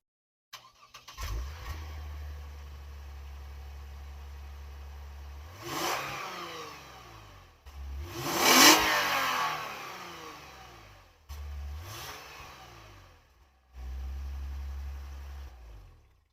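A 2017 Lexus RC350 AWD F-Sport starts up and settles into a steady idle, then gives several sharp throttle blips with one loud, high rev before dropping back to idle. Close and clear, with no talking.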